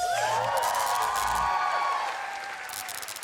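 Studio audience of a TV singing competition cheering on cue, a broad roar of voices with whoops and a sustained high-pitched scream on top that gradually fades toward the end.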